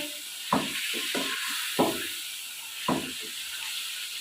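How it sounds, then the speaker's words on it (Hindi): Chicken frying in a pot, a steady soft sizzle and hiss with a few louder stirring clatters spaced through. "हम चिकन को अच्छे से भून लेंगे"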